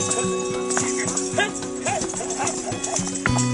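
Horses' hooves clop in a steady, repeating rhythm at a busy horse market, heard under continuous talk and a constant background hum.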